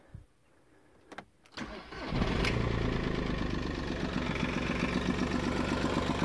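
A 2017-era Audi A2 fitted with a new intercooler cranks briefly, then its engine catches and settles into a steady, fairly loud idle that continues without talk.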